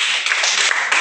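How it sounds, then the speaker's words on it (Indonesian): A classroom of students claps for a classmate named Ron, a short burst of brisk, close hand-clapping lasting about a second. "kasih tepuk tangan untuk Ron."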